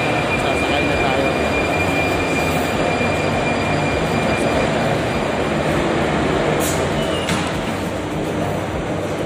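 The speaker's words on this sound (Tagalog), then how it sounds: "Hintay natin yung tren." A train rolling into a station, steady loud rumble of wheels on rails with faint metallic squeals and a brief high whine, continuous and close for the whole stretch.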